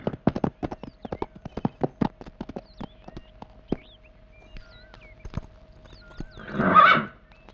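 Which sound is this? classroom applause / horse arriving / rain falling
horse arriving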